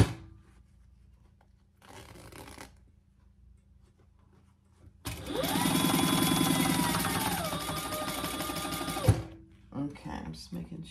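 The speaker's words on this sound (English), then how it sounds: "We'll sew that together at our 3/8 inch seam allowance." A sewing machine stitches a seam on a laptop and iPad case, running in a steady fast whir for about four seconds between quieter handling sounds, with a voice speaking softly before and after.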